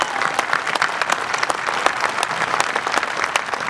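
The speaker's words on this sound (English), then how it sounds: "I ask that we give them applause for the memories of those Code Talkers" Audience applause at a WWII monument ceremony honoring the Navajo Code Talkers, a dense sustained wash of many hands clapping steadily from start to finish, fairly close and even in loudness.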